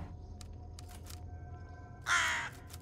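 A crow in the Tokyo Dark game world gives a single loud, harsh caw after a quiet stretch with a few faint clicks and a soft tone, standing alone with no voices.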